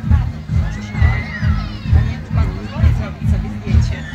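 Horse at a 2009 harvest festival (dożynki) in Żerniki giving a drawn-out whinny amid crowd babble and steady low rhythmic thumping, with people talking nearby.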